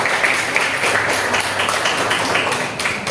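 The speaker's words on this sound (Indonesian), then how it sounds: "beri tepuk tangan" Applause from a group of participants in an Indonesian university teaching-session, a dense continuous patter of many hands clapping together at steady, close volume with no voices over it.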